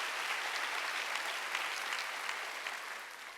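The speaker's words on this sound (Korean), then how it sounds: "박수 치려면 치고 말려면 말라는 겁니다." A church congregation at a Sunday worship service breaks into applause, a broad, sustained sheet of many hands clapping that holds at a steady level and tapers slightly toward the end.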